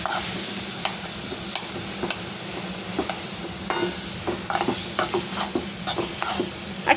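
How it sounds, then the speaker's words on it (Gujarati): Muskmelon pieces stirred into a hot frying pan for a Gujarati sabzi, with a steady close sizzle and repeated scraping strokes of the spoon against the pan. "હવે આપણે નાખી દઈશું ટેટી અને સારી રીતે મિક્સ કરી લઈશું."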